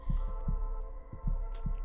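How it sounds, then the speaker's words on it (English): A heartbeat pulses in the horror video game Demonologist, soft paired thumps repeating in a slow, steady rhythm over a low droning hum, with no talk over it. "I hear the heartbeat."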